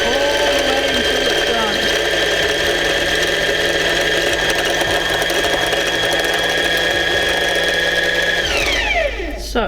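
A sewing machine stitches through faux fur with a steady, loud mechanical whir and hum that holds evenly, then winds down and stops near the end. A person speaks over it.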